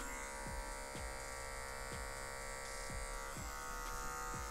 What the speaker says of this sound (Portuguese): E vem com a maquininha na zero passando por cima do pente